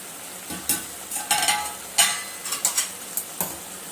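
Gongura sorrel-leaf chicken is stirred in a pot, with a run of close, uneven scraping and clanking spoon strokes against the metal over a faint sizzle, and no voices.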